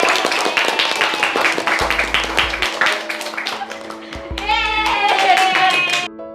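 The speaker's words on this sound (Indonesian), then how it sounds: "tepuk tangan dulu dong" A high school classroom claps after a student group presentation: brisk, fairly loud clapping from many hands with a lively rhythm, mixed with young voices cheering and talking toward the end before it stops abruptly.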